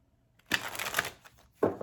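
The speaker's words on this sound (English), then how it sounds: "I'm gonna do 3 more shuffles" Tarot cards being shuffled in two brief riffling bursts, a longer papery flutter followed by a short second one after a pause, close and fairly quiet with no voices.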